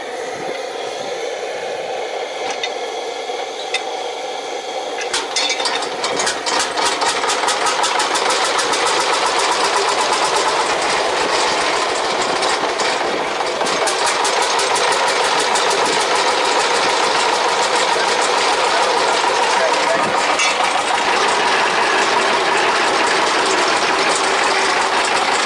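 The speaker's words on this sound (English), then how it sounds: "the whole tractor is rocking backwards and forwards with that massive 10-litre" An old tractor's massive 10-litre engine cranks up and, still cold, settles into a loud, rapid mechanical chugging and clatter that runs steadily and close by, with no talking.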